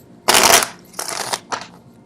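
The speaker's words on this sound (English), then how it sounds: "see the card shuffle live, I guess" A deck of tarot cards riffled and shuffled up close, three loud bursts of rapid flapping card noise, the first longest, then two shorter ones.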